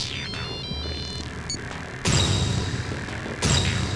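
A phone ringtone in a South Indian film scene: a bright, repeating electronic melody plays steadily at moderate loudness, joined by heavier thumping bursts of background sound partway through, with no clear speech.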